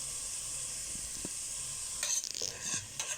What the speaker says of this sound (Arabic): نبدأ تشويحة كده